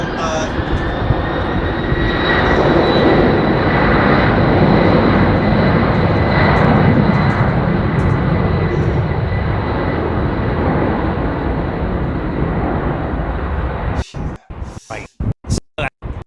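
A jet airplane passes overhead, heard outdoors as a loud, broad, sustained roar with a rising whine that holds for about fourteen seconds, then gives way to choppy, broken noise near the end.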